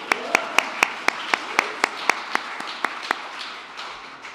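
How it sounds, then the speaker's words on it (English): An audience claps during a speech by Vice President Harris at a Community Violence Awareness Week event in the Indian Treaty room, a thin scattering of sharp individual claps at a steady pace that slowly fades. "I think we can clap."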